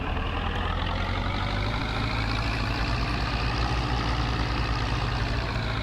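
A vintage tractor engine idles steadily in Farming Simulator 22. It is a loud, continuous low rumble that holds an even drone throughout, with no voices over it.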